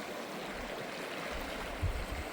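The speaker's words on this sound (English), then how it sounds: "Sitting by the river, Kootenai River" The Kootenai River flows at McLeod Meadows, a steady, moderately near wash of running water filling the clip, with a few low thumps near the end and no talk.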